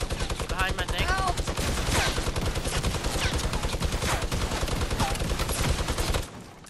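A drum gun in Fortnite firing in a long, rapid automatic burst of loud shots, with voices talking over the gunfire before it cuts off.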